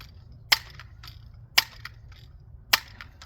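A lever action air rifle being pumped: three sharp mechanical clacks about a second apart, each trailed by softer clicks, close and fairly quiet.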